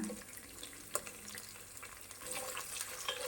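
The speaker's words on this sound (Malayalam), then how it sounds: "ഒന്ന് ഇളക്കി ചെറുതായി ഒന്ന് വാട്ടിയെടുക്കാം ശേഷം പച്ചമുളക് കീറിയതും കൂടി ഇടാം" Green chillies and curry leaves stirred and sautéing in a hot pan for tomato rice: a steady soft sizzle with occasional scraping clicks of a spoon, close and alone without talk.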